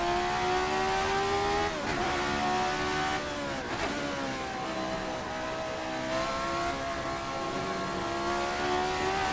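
Simulated Formula 79 race car engine in a racing video game, revving steadily with pitch rising and dipping through gear changes as the car powers out of a corner, loud and continuous with no talk.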